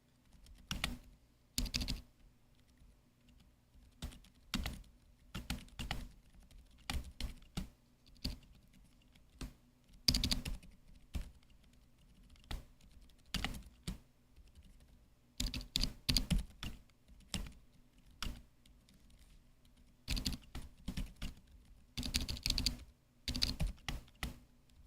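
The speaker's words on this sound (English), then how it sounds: "here's my cringy keyboard with the broken stabilizer" Custom mechanical keyboard with a broken stabilizer being typed on in close, steady bursts of clacky keystrokes, with short pauses between flurries and no talking.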